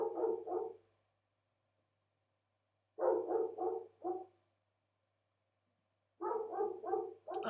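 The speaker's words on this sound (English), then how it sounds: "I apologize for the neighbor's dog." A neighbor's dog barks outdoors in three separate bursts of two to four deep, hoarse, rhythmic woofs, spaced a couple of seconds apart, moderately distant against an otherwise quiet background.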